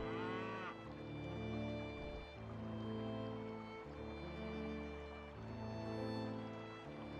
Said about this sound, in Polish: Mamy nową krowę!